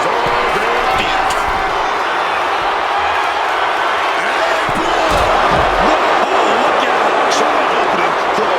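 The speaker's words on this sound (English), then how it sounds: "Just listen to this crowd. Every one of them is on their feet." A packed wrestling arena crowd roars and cheers continuously during a WWE Iron Man match in Turin, a loud sustained wash of voices with scattered whoops and sharp bangs breaking through.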